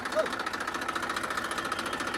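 A tractor engine chugs in a steady, knocking rhythm as the tractor slowly climbs onto a truck tyre laid over nails, rumbling at moderate distance with a faint voice underneath.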